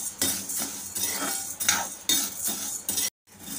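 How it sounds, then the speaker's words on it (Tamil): Chana dal roasts dry in a pan on medium flame, stirred with a metal spoon in a regular rhythm of close scraping and clinking strokes. "பருப்பு எல்லாமே நல்லா நிறம் மாறி வாசனை வர அளவுக்கு வறுப்படணும்"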